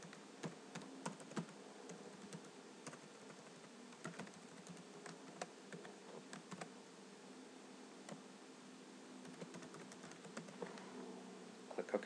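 Typing a new file name on a computer keyboard, with quick irregular clicky keystrokes in bursts, close and quiet, and no talking.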